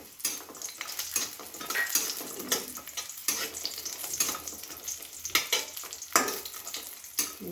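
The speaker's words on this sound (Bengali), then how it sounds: "দেখুন আমি লাল লাল করে বড়িটাকে ভেজে নিয়েছি" Bori lentil dumplings fry in hot oil in a pan, making a busy, crackling sizzle. A spoon scrapes and clinks against the metal again and again, close up and uneven.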